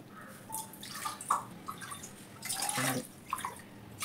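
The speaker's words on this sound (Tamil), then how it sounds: "தண்ணி ஊற்றிக்கலாம்." Water from a measuring cup is poured into a heavy-bottomed cooking pot, quiet splashing and trickling in short uneven bursts in a calm kitchen.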